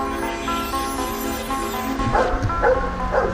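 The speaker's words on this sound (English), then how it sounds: "Noddy, the sniffer dog" A sniffer dog brought in by traffic police to search a car gives a few short yips and whimpering barks near the end, over a background of humming tonal noise.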